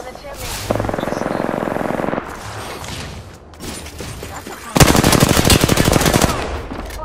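Video game gunfire with bursts of rapid automatic fire, the loudest dense burst coming near the end, over background game noise and some talking.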